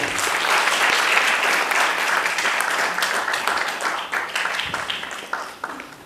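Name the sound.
audience applause at theatre event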